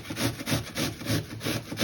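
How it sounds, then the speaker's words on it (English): An onion being grated by hand for ground beef and lamb shish kebabs, heard as steady rhythmic rasping strokes, about six back-and-forth passes in under two seconds, close and fairly loud with no talking. "take 1 onion and grate it"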